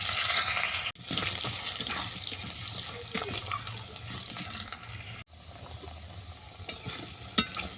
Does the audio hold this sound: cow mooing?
no